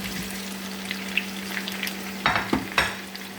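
Mung bean dish frying in a pan as tomatoes go in, a steady close sizzle with a low hum underneath and a few sharper stirring scrapes and splashes near the end.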